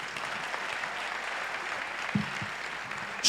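An audience gives a moderate, steady round of applause at an event honouring Dogad Dogoui, with a few louder bumps and brief voices near the end.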